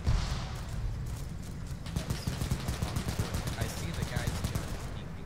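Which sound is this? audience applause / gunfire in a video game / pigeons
gunfire in a video game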